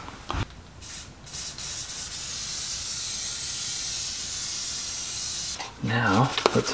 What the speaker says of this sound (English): Gorilla Glue spray.